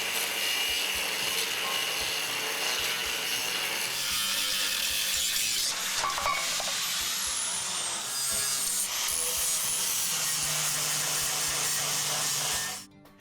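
A truck bed frame being cut along marked lines in several passes, giving a loud, steady abrasive grinding that runs almost unbroken for about twelve seconds before stopping abruptly.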